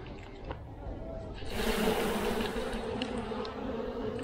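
A dense, steady buzzing of many honey bees being shaken off frames from an overwintered colony swells louder partway through and holds, close to the microphone, with faint movement sounds beneath.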